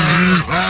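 Domestic goose honking near a nest, one loud nasal honk with a brief dip midway, close and alone without talk.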